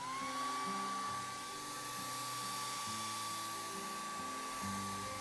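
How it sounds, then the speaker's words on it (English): A hair dryer blows steadily on a wet watercolour painting of a baby penguin, a continuous close whine with a high motor tone held throughout, alone without talk. "All right, time to blow dry."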